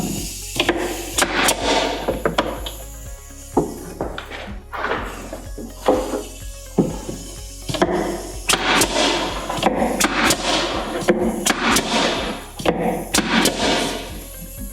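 Blind stapler shooting staples to join a cabinet face frame to its box: a run of sharp, loud percussive shots and thunks at irregular intervals, with some handling noise between them.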